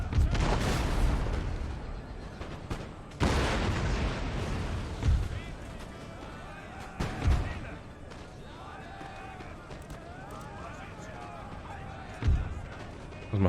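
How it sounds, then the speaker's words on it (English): Cannon fire in an Empire: Total War battle with a Prussian army: heavy booming volleys, some close and loud, others more distant, spaced irregularly amid battle noise, with a voice talking over it. "We're going to have really good cannon shots,"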